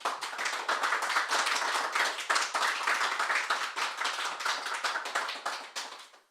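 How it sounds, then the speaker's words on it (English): A studio audience on a radio music show claps for the guest musician, a few distinct pairs of hands giving sharp, close, rapid claps that fade at the end. "Let's give him another round of applause."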